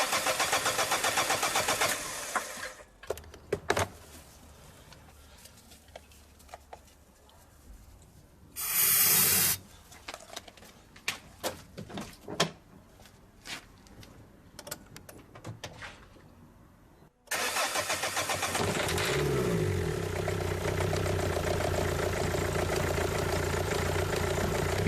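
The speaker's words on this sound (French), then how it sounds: "Démarrez le moteur." After a loud noisy start and a quieter stretch with clicks and a brief hissing spray, a diesel car engine cranks during injector testing, catches, and settles into a loud steady idle.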